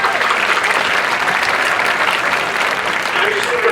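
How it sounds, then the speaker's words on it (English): A large audience at a high school class of 2025 graduation claps loudly and continuously, a dense, even wash of applause with some crowd noise mixed in. "let's give a round of applause."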